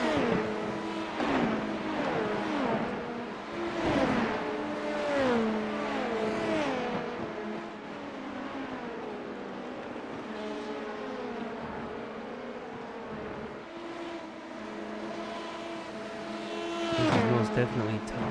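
GT3 race cars in an iRacing IMSA endurance race run past with rising and falling engine notes and some tire squeal, over a steady drone of car noise while a commentator talks throughout.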